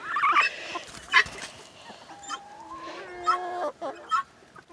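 A pet turkey gobbling and clucking up close, with several loud bursts of gobbles and warbling calls spread across a few seconds, and no talk.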